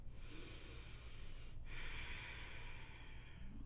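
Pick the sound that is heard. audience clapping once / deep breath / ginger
deep breath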